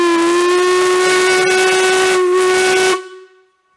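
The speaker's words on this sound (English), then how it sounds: "No, it's quite an effective whistle." A steam whistle on a steam engine tug boat blows one loud, sustained blast for about three seconds, steady and piercing with a hissing edge, then cuts off into a short echoing fade.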